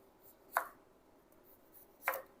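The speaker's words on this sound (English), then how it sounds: "I'm just going to chop those into chips. So I chop it into slices first." A knife slices through a potato on a cutting board to make chips, two distinct, sharp chops spaced about a second and a half apart over quiet background hiss.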